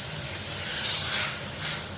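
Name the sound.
water poured into hot pan of olive chutney, sizzling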